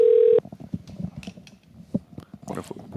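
One loud, brief touch-tone beep sounds on an old phone line, then faint clicks and handling noises follow.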